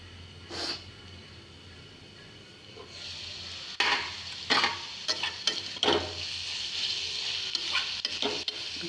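Onions and tomato frying in a pan for a broad bean seed curry, a steady sizzle with several louder bursts of stirring and scraping in the second half, close by and with no voices.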